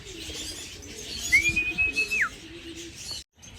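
Racing pigeons arriving at their loft after a 260 km race: soft cooing and fluttering with one clear whistled chirp near the middle, close and moderately loud over an outdoor background.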